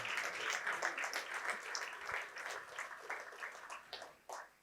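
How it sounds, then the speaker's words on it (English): Listeners at a motivational talk give a faint, scattered round of applause, a thin patter of separate hand claps that sounds distant and tapers off toward the end. "you can give a round of applause for that"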